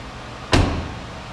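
The hood of a used 2009 Chevrolet Malibu with a 2.4-liter engine is released and opened, heard as one sharp, loud thump with a short rumbling tail, close by and alone.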